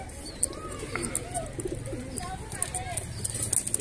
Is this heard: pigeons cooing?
yes